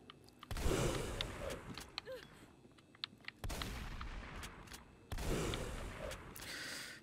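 Three heavy shotgun blasts in the video game Them And Us, each a sharp loud boom trailing into a long rumbling decay, spaced a few seconds apart, with faint clicks and movement between them.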